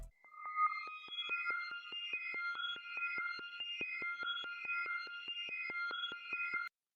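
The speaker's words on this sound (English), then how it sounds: "the next thing I added was an ARP from Electra X." Electra X arpeggio preset called Just Fine, from a flex-style bank in FL Studio: a fast, even pulse of bright, thin synth notes cycling steadily, fairly quiet and heard alone.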